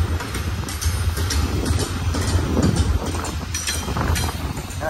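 BNSF port stack freight train out of Long Beach, California, rolling past on a multi-track line: a continuous rumbling roar with clattering wheel noise, moderately loud, mixed with gusty wind buffeting the microphone.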